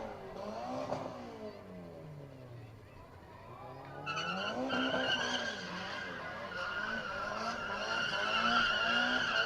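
Race car in a 4-cylinder drift class at a motorsport event, tyres squealing loudly and continuously as the engine revs, with a commentator talking over it.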